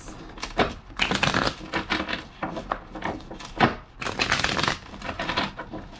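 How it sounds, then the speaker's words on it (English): Rapid bursts of crisp tarot card shuffling, papery riffles and flutters in quick succession, close and fairly loud, with no talking. "Two more shuffles."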